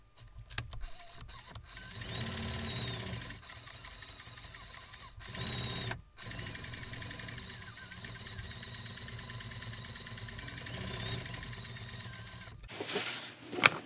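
Leather pancake knife sheath being stitched: a steady, close mechanical whirring runs for long stretches, broken by a few abrupt pauses and short bursts near the start, with no talking.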